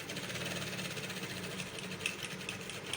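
A sewing machine stitching an Ankara top runs with a fast, steady mechanical chatter, a rhythmic needle pulse that is fairly faint but continuous throughout, with no talking.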